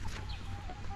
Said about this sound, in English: And some chicken all over,